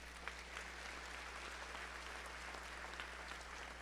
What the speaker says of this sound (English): One more applause for our students from Creekview Elementary.